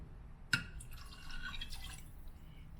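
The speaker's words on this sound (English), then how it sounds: "So I'm going to just start with 3/4 cups of water." Water poured into a pot of thick chili during cooking: one sharp splash, then a short, fairly quiet run of liquid sloshing and pouring.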